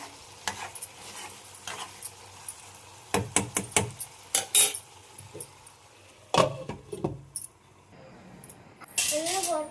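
Pots, pans and metal utensils clank and rattle in irregular bursts in a home kitchen as dishes are gathered for washing, with a brief voice near the end.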